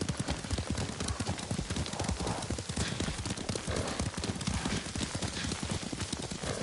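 Horse hooves galloping in the video game Ghost of Tsushima, a dense, rapid clip-clop rhythm that stays loud and constant throughout with no pause.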